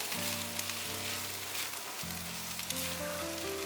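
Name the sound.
red pepper stir-frying in a wok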